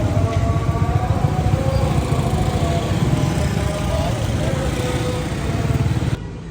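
A rickshaw's small engine buzzes and rattles steadily through a ride near Lahore's Delhi Gate, loud and close. It cuts off sharply after about six seconds, leaving a softer hum.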